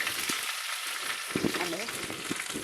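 Mustard seeds and green chillies fry in hot oil with a dense, steady sizzle that stays loud throughout, and a brief voice-like sound rises over it partway through.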